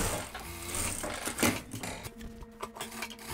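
A domestic sewing machine runs a straight reinforcing seam beside an overlocked edge on a blazer, a close, quick mechanical chatter of needle strokes with small shifts in speed.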